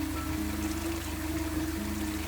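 Gentle water lapping and washing around a narrowboat's welldeck, with a steady low hum of machinery on the bankside underneath; continuous, soft and even throughout.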